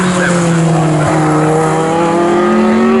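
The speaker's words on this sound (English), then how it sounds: "Lovely sound as I pause and just listen to Keith Arles, our leader, screaming through" A Morgan race car screams past at full throttle at Snetterton circuit, its loud, sustained engine note sliding steadily upward, close and continuous, with no talk over it.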